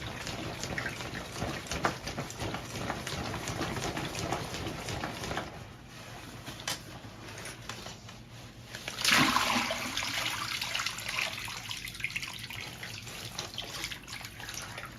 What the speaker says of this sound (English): This time you're going to fill your bag up to rinse your clothes.